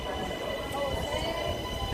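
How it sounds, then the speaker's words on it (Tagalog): A train ride toward Plaza Catalunya in Spain, with steady low rumble and rolling rail noise throughout, joined by background voices talking. "Ito yung ating sasakyan na tren."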